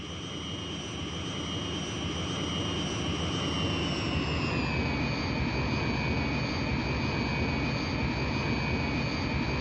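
A Harrier jump jet's engine idles on the runway in the 1999 PlayStation game Eagle One: Harrier Attack. It makes a loud, steady roar with a high whine that drops slightly in pitch about halfway through, and no one speaks.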